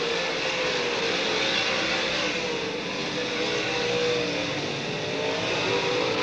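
Race cars racing on the Talladega short track, a steady loud engine roar with no break, heard from trackside, no talking.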